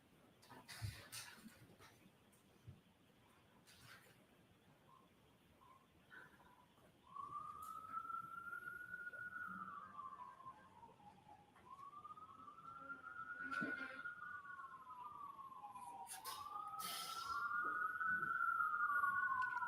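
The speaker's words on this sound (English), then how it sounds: "We have emergency vehicles." A wailing emergency vehicle siren rises and falls in repeated sweeps, starting partway through and growing louder as it approaches outside a courtroom, with faint background noise.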